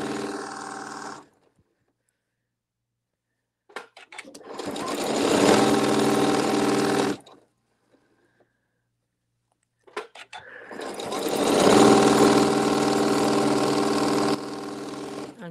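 Sewing machine with an AccuFeed walking-foot system stitching fabric in two long steady runs of rapid mechanical whirring and clatter, loud and close, separated by short pauses and a quiet stretch.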